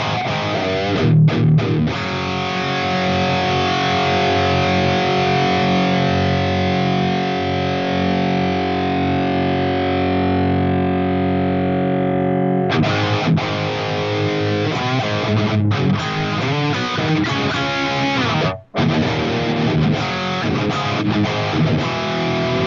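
Heavily distorted electric guitar through a Fractal Audio amp modeler with added gain, loud sustained chords and riffs ringing out continuously with a few brief breaks.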